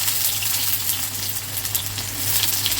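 Onions sizzle in hot oil in a pan while brinjal and egg curry is being cooked, a steady close crackling and hissing with occasional stirring and no talking.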